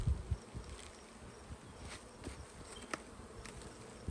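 Honeybees buzz in an open hive during a swarm cell check in Western Michigan, a faint, steady drone with a few individual bees passing close by.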